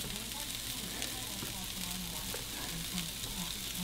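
Steaks sizzle steadily on a charcoal grill, a dense continuous frying hiss with faint crackle, close and even throughout.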